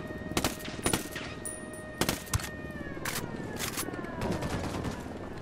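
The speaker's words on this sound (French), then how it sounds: "On est en train de se faire sniper." Gunfire crackles in Tom Clancy's Ghost Recon Wildlands as a sniper targets the player, with several sharp shots spaced irregularly over faint in-game background sound.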